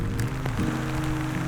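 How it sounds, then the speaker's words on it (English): Heavy rain comes down at a mountain trout-fishing spot, a steady dense patter hitting nearby surfaces up close, with a couple of louder drips standing out. "that rain's well and truly come in now"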